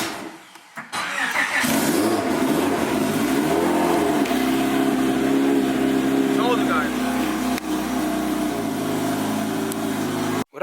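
A car with a long-standing fault, running low on gas, cranks and fires up, then its engine runs steadily and loud and revs throughout, with no voices over it.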